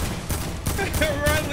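A mega shotgun fires in the Fortnite video game, several heavy booming blasts roughly half a second apart with game effects between them, loud and close, over faint background chatter.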